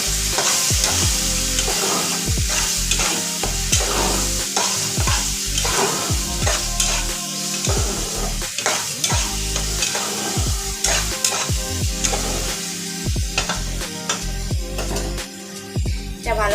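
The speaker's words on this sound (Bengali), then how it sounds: "এবার আমি এই টমেটো পেস্টটা দিয়ে দেবো।" Tomato paste frying in a pan for a Bengali katla fish curry, with steady sizzling and repeated scraping stirs of a utensil, close and continuous throughout.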